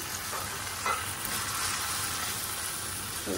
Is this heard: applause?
no